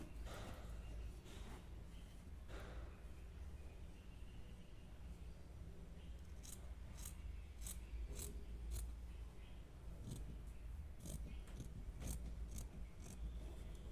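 Scissors snip through net cloth for embroidery in a series of faint, sharp clicks, sparse at first and then quicker in the second half, over a soft steady background.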